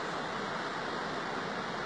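Steady rushing roar of a waterfall on a trail in the High Tatras mountains of Slovakia, a broad, even wash of water noise without pause, no voices over it.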